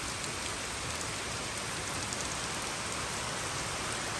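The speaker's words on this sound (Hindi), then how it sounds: "लेकिन तब तक तो बारिश स्टार्ट हो गई" Heavy rain pours steadily onto a courtyard near a cattle shed, a dense continuous hiss of drops striking the ground and roof, with no voices.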